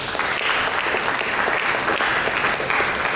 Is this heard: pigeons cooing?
no